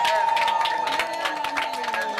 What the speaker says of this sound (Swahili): Jamani, tuipokee kwa vigeregere na kwa shangwe.